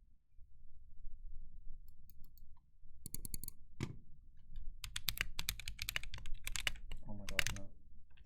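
Someone types on a newly built ZealPC Zephyr65 mechanical keyboard, producing scattered, irregular key clicks that bunch into quick flurries. The typing is quiet and close over a low room hum.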